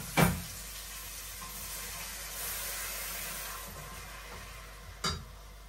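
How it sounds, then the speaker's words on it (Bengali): Spices and fish sautéing together in a pan, giving a soft, steady sizzle and hiss with a couple of brief scraping knocks near the start and end. "এখন ভালোভাবে একটু কষাই নেই।"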